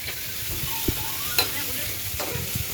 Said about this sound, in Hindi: ये हमारे तड़का लग गया एकदम अच्छे वाला।